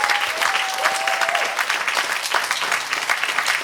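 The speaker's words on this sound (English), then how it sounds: "I just want to give you a massive round of applause" Audience applause in a small listening-room concert, steady dense clapping from a modest crowd, loud and sustained throughout, with a faint voice briefly underneath.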